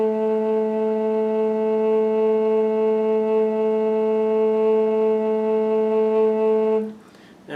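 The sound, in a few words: large bore bass A flute played without vibrato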